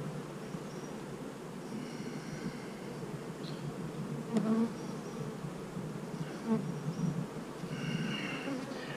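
Honey bees at an open beehive during spring feeding, a steady close swarming buzz running throughout with a few louder passes near the mic.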